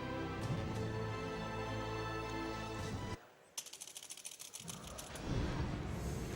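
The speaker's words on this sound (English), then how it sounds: "what you're hearing probably is my signature keyboard sound. I tend to spam spacebar and a lot, and spam it very hard" A loud mechanical keyboard rattles with clacking keystrokes, then a quick burst of rapid, hard spacebar presses in a fast clicking run, close and sharp, amid game sound during a Darksiders II speedrun.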